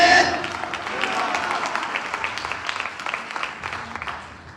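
Congregation applauding at a church Easter meeting, a steady patter of clapping that fades slightly over several seconds, with a voice faintly over it.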